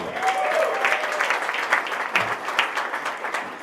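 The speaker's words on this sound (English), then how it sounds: "let's just give Wayne a round of applause for his servant leadership" An audience at a banking technology event breaks into steady applause, many hands clapping together at moderate loudness with a few sharper individual claps standing out.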